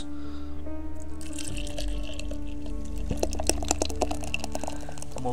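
Beer pours steadily into a glass close by, a gurgling splash that gives way to a foamy fizz and crackle as the glass fills.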